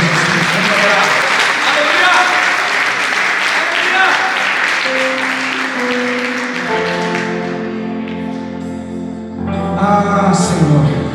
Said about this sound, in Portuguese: E eu queria que você aplaudisse a Jesus.